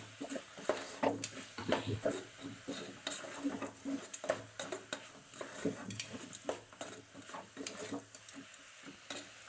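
Coconut candy mixture stirred in a pan brings repeated scraping strokes and light clinks of a utensil against metal in an uneven rhythm, with a soft sizzle underneath, close up and quiet.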